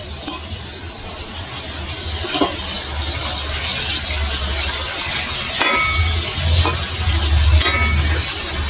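Chilli potato cooks in a pan, stirred and left to simmer, giving a steady low bubbling and frying hiss with a few sharp utensil taps and clinks against the pan.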